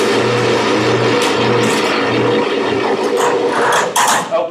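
Genie Genius TracDrive GG-1950 garage door opener running with a steady mechanical hum and rattle, a low pulsing drone under brief clanks near the end.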